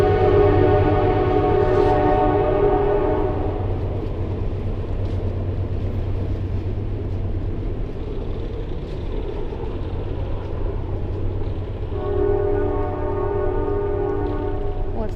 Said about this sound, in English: Oh, here comes a train, guys.